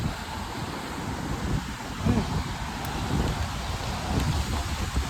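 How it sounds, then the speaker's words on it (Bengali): Heavy rain and strong wind outdoors near a long bridge, with a dense roar of rainfall and wind buffeting the microphone, rising and falling in gusts. "ও প্রচুর বৃষ্টি এবং প্রচুর বাতাস"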